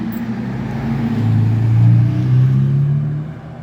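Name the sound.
Ferrari car driving past on tour auto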